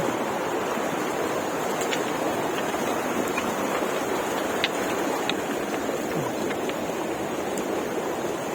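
Mountain stream water rushing steadily past on the Gomukh trek above Gangotri, a dense, continuous close-up roar with no pauses and no voices.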